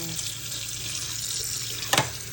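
Tap water runs steadily into a sink while eggs are washed, a close continuous splashing stream with a brief louder splash near the end.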